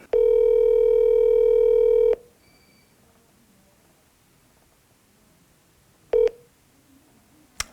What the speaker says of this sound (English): So this is the last call I'm gonna make.